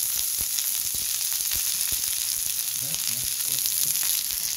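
Wagyu beef fries in a hot pan with a steady, bright sizzle throughout, crackling pops scattered over a constant hiss, close and fairly loud with no talking.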